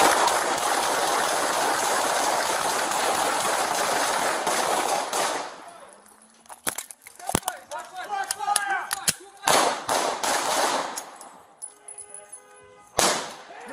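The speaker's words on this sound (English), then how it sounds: "Seeing the suspect suddenly raise his gun, the police immediately opened fire." Police gunfire during a carjacking arrest in Los Angeles, a loud rapid volley of sharp cracking shots in the street, followed by scattered further bursts amid shouting.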